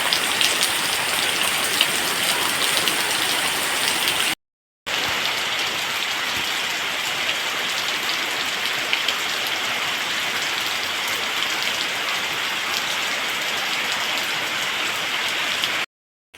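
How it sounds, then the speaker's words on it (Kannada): Light rain falls steadily on an outdoor surface, a soft, even patter that carries on unbroken apart from a brief silent gap, with no voices. "ಈಗ ಹನಿ ಹನಿ ಹನಿ ಮಳೆ ಬರ್ತುಂಟು."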